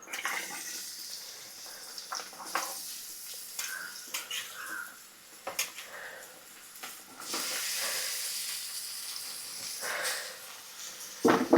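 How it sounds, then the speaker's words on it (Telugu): Onion pieces dropped into hot oil for a tomato capsicum curry give a broad, steady hiss and crackle that swells and fades, with a louder sustained stretch midway and a few clatters. "ఉల్లిపాయ ముక్కలు వేసుకుందాం ఫస్ట్"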